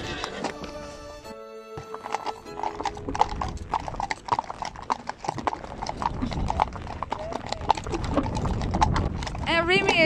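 Hooves of a ridden four-year-old Friesian stallion clip-clop in a steady rhythm on the ground, close and clear, while people talk over the hoofbeats and a brief tone sounds near the start.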